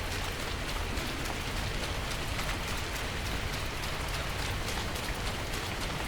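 Steady, dense rain pours down in the dark fantasy game Into Evil, a constant hiss of drops on surfaces with no pauses and no voices.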